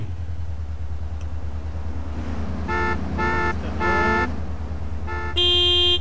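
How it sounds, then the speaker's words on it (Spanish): A car horn in the video game GTA San Andreas sounds in several short, separate toots over a low, steady engine rumble, ending with one longer, louder blast. "¿De veras cómo suena ese claxon aquí,"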